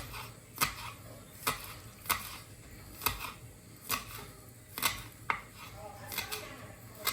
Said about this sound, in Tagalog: eh para sa akin mas masarap gayatin yan pag frozen at least hindi dumudulas na so yun gayatin ko na rin